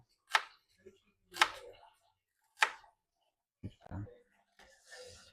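Onions chopped on a cutting board, three sharp, distinct knife strikes spaced about a second apart, followed by softer handling noises and a low murmured voice.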